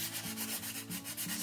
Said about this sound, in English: sand the leading edges